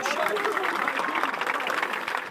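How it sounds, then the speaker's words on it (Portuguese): Applause rises from mourners at a child's burial in Complexo do Alemão, Rio de Janeiro, a dense, steady patter of many hands clapping close by, with voices mixed into the crowd noise throughout. "O corpo foi sepultado sob aplausos."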